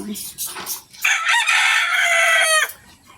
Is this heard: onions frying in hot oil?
no